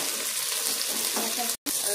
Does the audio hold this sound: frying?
yes